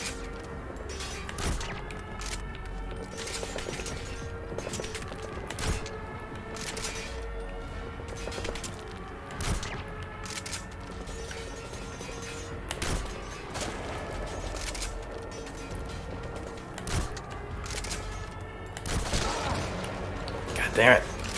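Scattered bursts of covering gunfire in the stealth-action game Metal Gear Solid V: The Phantom Pain, with sharp shots spaced irregularly over a steady ambient bed and talk running over them.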